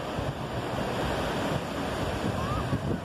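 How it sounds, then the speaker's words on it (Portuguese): Wind and sea breeze on an overcast beach, a broad, steady rush of surf and gusting air with microphone wind buffeting, close and continuous with no talk. "É uma brisinha aqui no mar, né? Vento aqui"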